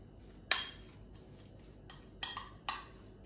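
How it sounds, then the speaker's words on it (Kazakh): A spoon stirring garlic, salt, black pepper and cold water together in a dish, making faint, sparse clinks against the bowl, roughly four light taps over a quiet background. "бәрін жақсылап араластырып аламын"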